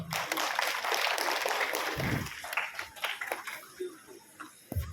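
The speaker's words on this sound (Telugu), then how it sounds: "వీళ్ళందరికీ మిగిలిన చప్పట్లు కొట్టున్నాము." An audience applauds at a gathering, a dense burst of clapping that thins into scattered individual claps, with some voices mixed in.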